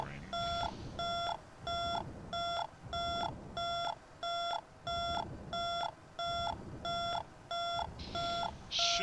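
A cockpit alarm in the X-Plane 11 flight simulator beeps insistently, a loud, steady train of about a dozen evenly spaced electronic tones, with low engine rumble and a brief voice beneath.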